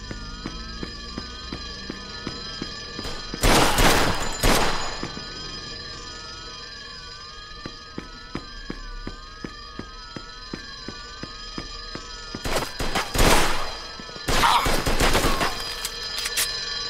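Police gunfire in the video game Mafia II: two loud bursts of rapid shots, a short volley near the start and a longer, heavier one near the end, over a steady droning game soundtrack.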